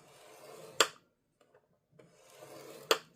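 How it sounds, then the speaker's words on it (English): Two sharp scoring strokes across paper for a junk journal, each a brief scraping rasp about two seconds apart, quiet and close with near silence between. "we are going to score every 1/2 inch at 6 different times"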